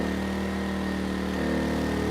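An Erayak 4500PD dual-fuel inverter generator runs on propane while pulling a 3,000-watt load, giving a steady, close engine drone whose pitch shifts slightly partway through.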